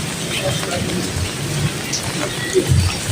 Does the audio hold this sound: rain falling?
yes